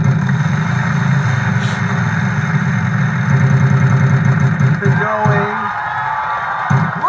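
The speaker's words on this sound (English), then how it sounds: "He's gonna spin once again." A wheel spins in the Wheel of Fortune game on Wii, giving a brief run of rapid, even ticks partway through over a steady, droning game background.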